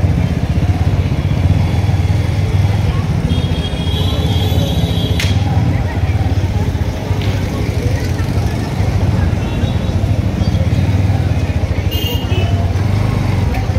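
A motorcycle engine runs steadily at idle, loud and close, with an even mechanical rumble and a few faint clicks and rattles throughout.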